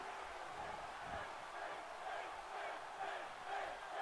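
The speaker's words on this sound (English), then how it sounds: "But now the crowd in Chicago cheering for Finn Balor." Arena crowd cheering for a wrestler in the WWE 2K18 video game, set in Chicago: a faint, distant roar of many voices swelling and ebbing in waves, with no commentary heard.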